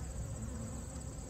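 Honeybees buzzing steadily inside a hive box during colony boosting, a dense, continuous low drone heard up close with no voices.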